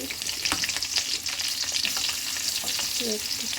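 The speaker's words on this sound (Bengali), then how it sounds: "প্রথমে আমি এখানে দিয়ে দিব পেঁয়াজ কুচি" Chopped onions hit a hot pan and fry with a loud, steady sizzle, briefly stirred, while a vegetable dish of taro greens is being started; no one speaks.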